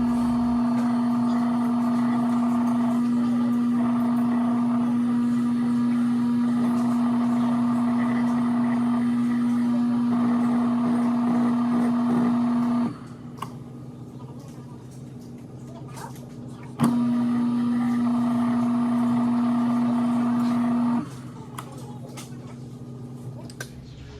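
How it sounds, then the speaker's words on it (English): A bench motor fitted with a Kratex wheel deburring the shank of a brass mouthpiece hums with a steady tone for about thirteen seconds, stops, runs again briefly, then cuts out, leaving quieter room noise with some talk. "I will just quickly deburr it using a Kratex wheel on the bench motor."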